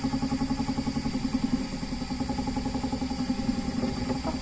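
Electric spinning wheel plying yarn into two-ply, a steady low motorized hum with a fast regular pulsing whir running continuously at close range.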